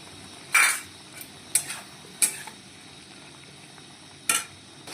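Spice powders stirred and fried with potato and vegetable stems in a pan, a few sharp scraping clinks of a spoon against the pan standing out over a faint, steady sizzle.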